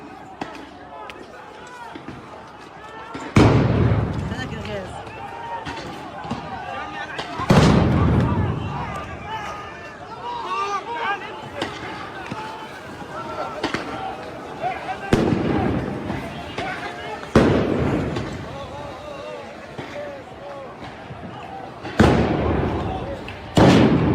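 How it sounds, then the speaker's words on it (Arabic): Tear gas canisters and stun grenades fired by occupation forces during violent clashes at Al-Aqsa Mosque, several loud booming blasts spaced a few seconds apart amid a crowd's continuous shouting and commotion. "الآن قوات الاحتلال تطلق قنابل الغاز والصوت"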